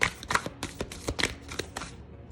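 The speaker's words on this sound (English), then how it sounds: "It's a horrible shuffle." A deck of tarot cards is shuffled in a series of quick, crisp riffles and slaps, close and fairly quiet, with no talking.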